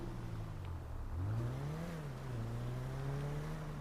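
Car driving in GTA 5, a steady engine drone with its pitch dipping and rising as the car accelerates, continuous and moderately loud, with no voices.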